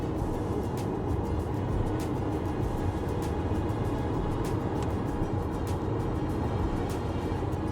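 Steady broadband road and wind noise inside a 2023 Skoda Enyaq SUV cruising at about 90 km/h, a constant low rumble with faint ticks and no one speaking.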